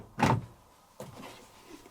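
The door release on a compact Midea mini washing machine clicks and thunks twice, a sharp near release followed a second later by a softer mechanical clunk.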